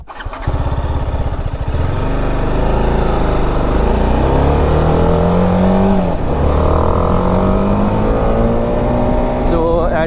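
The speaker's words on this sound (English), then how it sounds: "we'll be able to understand if the mic picks up the silencer pipe sound" A motorcycle exhaust roars steadily while riding, picked up by a helmet-mounted GoPro Hero 11, loud and close, with the engine pitch rising and falling through gear changes and wind noise throughout.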